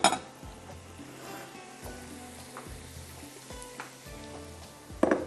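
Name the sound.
tarka (tempering) sizzling poured over Hyderabadi kadhi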